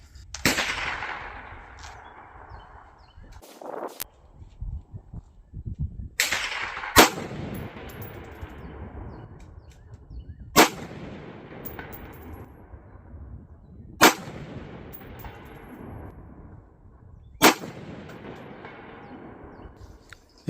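Rifle shots fired at a worn steel target with a low-power variable scope, five or six sharp loud cracks spaced a few seconds apart, each followed by a faint metallic ding at a distance.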